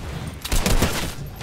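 Grenade blast in Fortnite, a loud, close burst of booming, rattling noise swelling midway through the short moment and trailing off into rumbling debris.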